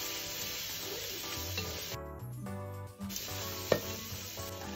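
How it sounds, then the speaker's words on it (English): Diced carrot is stirred into seafood fried rice in a hot pan, giving a steady sizzle broken by scraping stir strokes, close and without any voices. "you need to add 1 diced carrot and stir it till it becomes soft"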